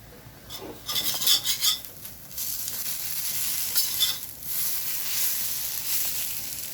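Okra (ladyfinger) stir-frying on a low flame until crisp: a continuous soft sizzle overlaid by bursts of scraping and rattling as a spatula turns the pieces in the pan, close and without voices.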